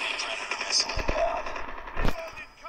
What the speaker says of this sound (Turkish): Evet, bombayı da attık.